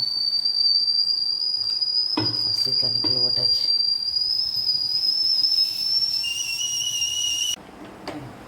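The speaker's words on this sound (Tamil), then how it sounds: "டீ ஆகிட்டுருக்குது பால் விசில் வருது" A shrill, continuous milk boiler steam whistle rises steadily in pitch for several seconds, then cuts off abruptly; a few clinks and a brief voice occur beneath it.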